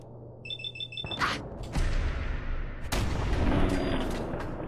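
Gunfire in Fallout 4 on survival mode: a few sharp, loud booming shots and crashes following a short beeping tone, with a rumbling echo filling the gaps and no talk.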